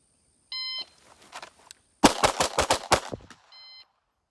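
A beep sounds, then a quick string of about six loud, close pistol shots fires in rapid succession during a shooting drill, followed by a second beep.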